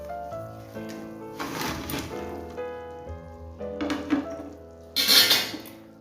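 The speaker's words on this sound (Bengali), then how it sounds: "তো চলুন এবার বড়াগুলো এই ঝোলের মধ্যে দিয়ে দিই।" Fried dhoka lentil fritters dropped into a simmering curry in a pot, giving several clattering knocks of utensil and pot with soft bubbling, ending in a louder splashy clatter near the close.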